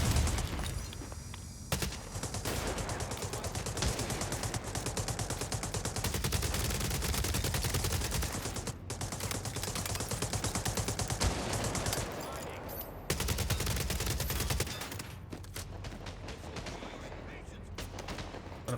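Sustained gunfire and sniper shots in The Division Resurgence, a dense loud barrage of game weapon fire with brief pauses, running throughout.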